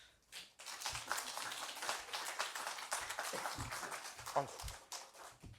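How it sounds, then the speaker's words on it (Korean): Continuous applause from a church congregation welcoming a pastor, dense clapping sustained for several seconds before tapering off near the end. "박수로 환영하겠습니다"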